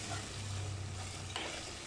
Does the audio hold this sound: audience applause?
no